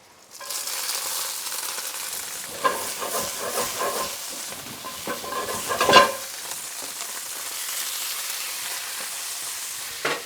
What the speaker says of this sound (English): All of that sizzling and snapping and popping sounds is what you want to hear.